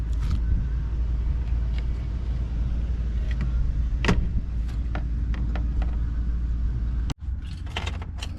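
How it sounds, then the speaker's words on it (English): An overheating pickup truck's engine idles with a steady, loud, close rumble, broken by a few light clicks and knocks and a brief sharp cut near the end. "Start the truck up and let it get up to"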